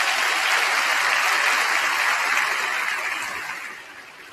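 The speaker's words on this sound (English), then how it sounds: "Could we please have a round of applause for our band who did a terrific job this morning?" A school audience at a junior high promotion ceremony applauds the school band, a steady, full wash of many clapping hands that thins and fades over the last second.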